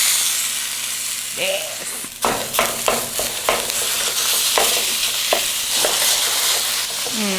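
Ground meat sizzles and crackles steadily in a hot pan for a pizza casserole, with scraping spoon or spatula strokes stirring it every half second or so, loud and close, while a person talks over it.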